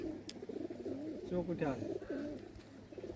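Rajshahi local Giribaj and Pakistani pigeons coo in rolling, warbling phrases close by, several overlapping calls under a voice.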